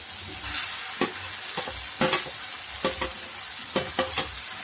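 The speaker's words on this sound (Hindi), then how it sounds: "अब इसको अच्छे से मिक्स कर लेंगे।" Mashed potato stirred into fried spices in a pan, a soft steady sizzle broken by repeated scraping spatula strokes at a loose rhythm, close and alone with no voices.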